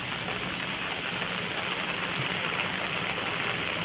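Heavy rain pours steadily during a landslide in Camarines Norte, a dense, continuous hiss of downpour on surfaces that stays loud and even throughout with no voices.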